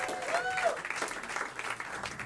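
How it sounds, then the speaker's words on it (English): Audience applause at a live comedy show in a large venue, a dense wash of clapping that fills the whole stretch at steady strength, with a few voices mixed into the crowd noise. "give yourselves a huge round of applause."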